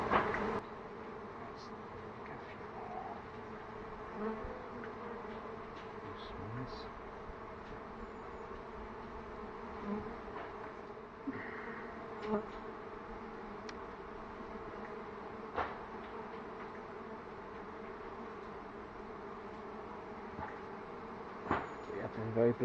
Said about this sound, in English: Well, there's not actually that many bees left in there now.